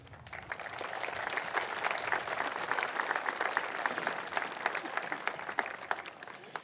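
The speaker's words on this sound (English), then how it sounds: "give a round of applause for the village that has gotten you here to this moment" Faint, steady applause from a high school commencement crowd, many hands clapping continuously for several seconds with a few sharper claps standing out near the end.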